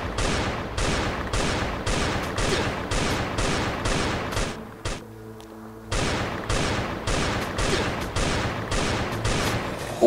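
Pistol shots fired at zombies in the survival game Last Day on Earth ring out in a loud, rapid, evenly spaced series of cracks, broken by one short pause midway before the firing resumes.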